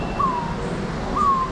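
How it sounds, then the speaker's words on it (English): Two loud, drawn-out calls from a bird billed as the world's second loudest, heard in an Amazon rainforest exhibit; each call sits about a second apart over steady background noise. "And then we saw the world's second loudest bird."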